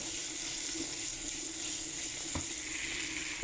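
Slit green chilies and dried fish fry in a pan with a steady, moderate sizzle that hisses continuously, ending with a sharp clatter.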